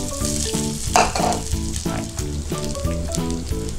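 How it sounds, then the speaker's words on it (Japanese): Water, 350 cc, poured into a hot pan of chili and garlic sets off a loud, steady sizzle that continues throughout, with clinking and stirring noises over the frying hiss. "水です。 はい、350cc、ここに入れます。"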